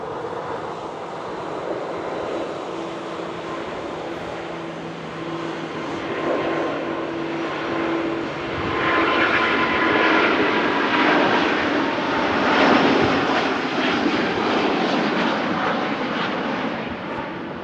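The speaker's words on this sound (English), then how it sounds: "The Singapore A350 starts its takeoff roll." A Singapore Airlines Airbus A350 rolls for takeoff at Manchester Airport, with a loud, steady jet engine roar that swells and broadens as the thrust builds, heard from nearby without talk.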